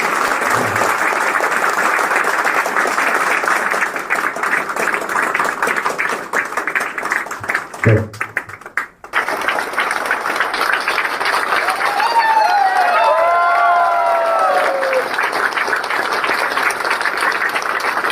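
An audience at a talk event claps steadily and at length, dense close applause with a brief break partway, resuming under someone speaking.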